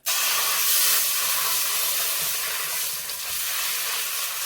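About half a can of coconut milk poured into hot oil for a coconut karee curry, hitting with a sudden loud sizzle that holds as a steady, bright hiss for several seconds, close and alone.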